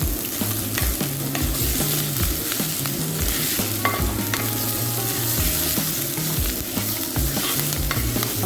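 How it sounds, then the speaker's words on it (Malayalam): Shallots, green chili and curry leaves sauté in a pan for pullinji, a tamarind and jaggery sauce. A steady close sizzle runs throughout, broken by repeated scraping stirs, with no talking. "ഇനി നമുക്കതിലേക്ക് എടുത്തു വെച്ച ചുവന്നുള്ളി ഇട്ട് കൊടുക്കാം. അതിനുശേഷം പച്ചമുളക്, പിന്നെ വേപ്പില ഇതിട്ട് കൊടുത്തിട്ട് നമുക്ക് നന്നായിട്ട് വഴറ്റിയെടുക്കാം."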